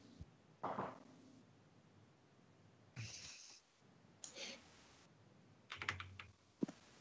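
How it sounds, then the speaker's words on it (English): A computer keyboard is typed on during a streamed $1,000 cash game, with uneven bursts of close, clicky keystrokes separated by pauses and occasional soft breaths. "Keyboard."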